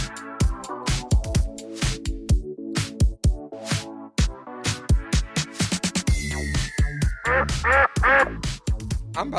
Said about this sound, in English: is that a duck in the cave?